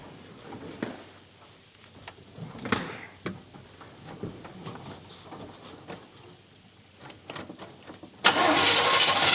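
A 1979 Chevrolet Camaro barn find, sitting for years and low on gas, cranks with a few bursts before catching and running at a steady, loud idle close by.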